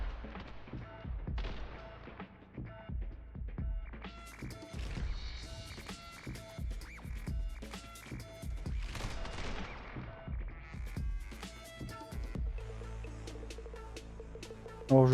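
Rapid gunfire in the video game The Hong Kong Massacre, dense bursts of sharp shots with thuds, one after another throughout, ending in a loud blast.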